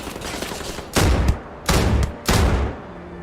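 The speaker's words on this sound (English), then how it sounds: "It's a shotgun rifle" Shotgun rifle fire in the Starfield video game: three loud, booming blasts about half a second apart, ringing over a busy, noisy game background.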